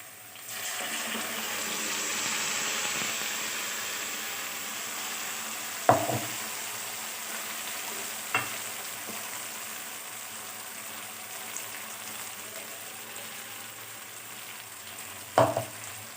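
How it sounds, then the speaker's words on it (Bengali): Spices for a mutton curry sauté in a pan with fried onions, a quiet continuous sizzle with a few scattered scrapes and knocks of the spoon as they are stirred. "মশলাটা একটু ভালো করে কষিয়ে নিই"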